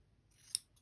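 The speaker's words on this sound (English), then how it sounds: "when I use these fabric scissors" Fabric scissors make one crisp, quiet snip through fabric, brief and close, with a faint second slice just after.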